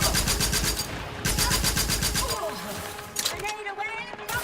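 Rapid automatic gunfire from a weapon in a video game, a fast rhythmic burst of shots in two main stretches, loud and close, with a person talking over it.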